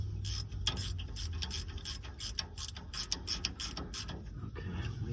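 Ratchet wrench clicking in quick repeated bursts as it tightens a 3/4 bolt on a 1940 Plymouth panel truck, close and fairly quiet.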